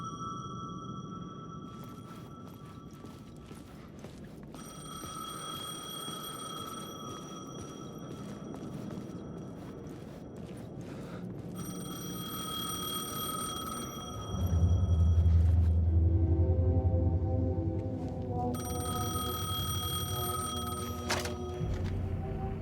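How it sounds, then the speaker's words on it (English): Payphone in the Alan Wake 2 video game rings in repeated bursts of bright electronic trills separated by pauses, over a low ambient rumble that swells near the end, with no speech. "The payphone was ringing."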